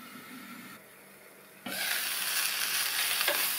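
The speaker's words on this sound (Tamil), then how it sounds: "திறந்து பார்த்து கிண்டி விட்டுக்கலாம்." Green beans for a Tamil beans poriyal stir-fried in a pan, a lid lifted and the beans stirred: a muffled hiss gives way to loud, steady close sizzling and frying with faint stirring scrapes, no talking.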